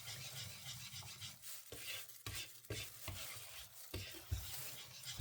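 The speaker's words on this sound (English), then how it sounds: "I'll be taking my whisk, the whisk to stir everything." Whisk stirring a sourdough mixture in a bowl, a faint continuous scraping swish broken by soft irregular knocks against the bowl, with no voices.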